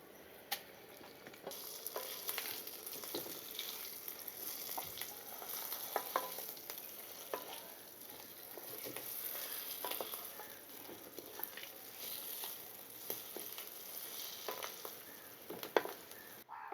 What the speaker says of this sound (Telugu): తాలింపు వేగిన తర్వాత రోట్లో దంచుకున్న ఈ పచ్చడి దీంట్లో వేసేసుకొని కలిపేసుకొని దింపేసుకుందాం